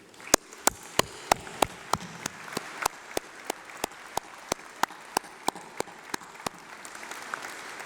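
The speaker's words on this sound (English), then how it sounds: "Let's have a massive round of applause for them." Steady, evenly spaced claps ring out one after another over a soft crowd hush at a UCLan university graduation ceremony, honouring graduates' families and supporters.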